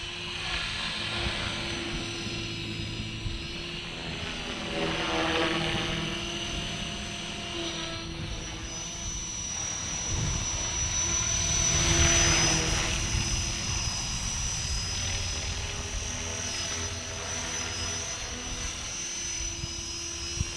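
A radio-controlled model helicopter flies nearby with a continuous whining rotor and engine drone, swelling and fading slightly as it moves, steady for about twenty seconds with no talking.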